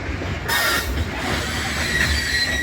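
A train rumbles past close by, wheels on rails with a rising hiss and faint squeal, continuous and loud for the whole moment.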